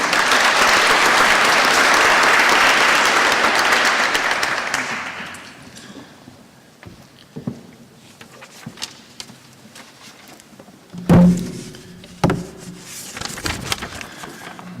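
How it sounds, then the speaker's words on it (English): An audience at the opening ceremony of an environmental emergencies forum applauds a speaker. The dense clapping lasts about five seconds and then fades, followed by scattered thumps and handling noises in a quiet room. "A round of applause for him, ladies and gentlemen."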